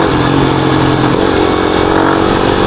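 A Yamaha Sniper 150 underbone motorcycle modified in a big-bike style, its engine revving loudly and close up in a short steady burst, with a rough buzzing tone and no talking.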